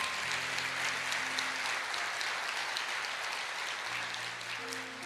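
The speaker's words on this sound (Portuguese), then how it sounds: "vamos aplaudir ao Senhor." A church congregation claps steadily together, a dense, sustained wash of applause filling the room for several seconds and tapering slightly toward the end.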